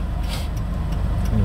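A car moving off from a stop during a road driving lesson with a learner at the wheel, its engine a steady low rumble close by inside the cabin, with no talk.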